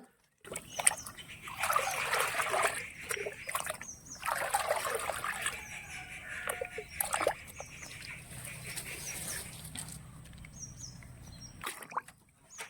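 Oil-cake fertilizer water poured from a bucket onto flower plants, trickling and splashing in several separate pours with quieter gaps between them, close and fairly soft.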